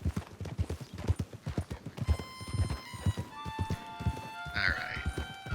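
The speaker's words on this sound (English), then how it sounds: "What's got your horse all riled up there, Charles?" A riled-up horse in Red Dead Redemption 2 neighs and whinnies over steady clip-clopping hooves, while someone speaks and tries to calm it.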